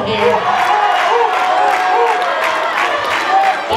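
A wrestling arena crowd cheers and rallies behind Deadpool during a tag team championship match, a sustained roar of whoops and shouts with an announcer-like voice running over it.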